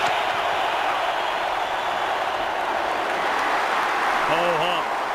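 Steady roar of a stadium crowd at a 2011 Packers at Vikings NFL football game, a broad continuous wash of cheering and noise that stays loud throughout, with a brief voice near the end.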